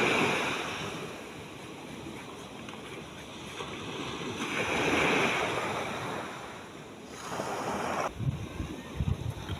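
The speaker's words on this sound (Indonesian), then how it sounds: "suara deburan ombak yang memberikan efek relaksasi" Ocean waves crash and wash steadily onto a white-sand beach at Calang, Aceh Jaya, with swelling surges of surf and some wind noise throughout.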